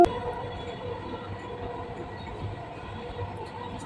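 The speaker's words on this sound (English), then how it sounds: "So this is Dubai Metro." Dubai Metro train running, a steady rumbling rail drone heard from inside the carriage, continuous and moderately loud with faint rhythmic track clatter throughout.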